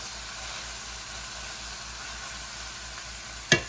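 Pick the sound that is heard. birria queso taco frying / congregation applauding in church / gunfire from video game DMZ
birria queso taco frying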